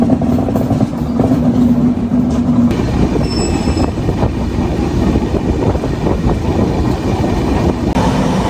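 Kerala Express train running through the outskirts of Kochi, a loud continuous rumble of wheels on rails with faint rhythmic clatter and a brief high squeal, heard from on board with no talking.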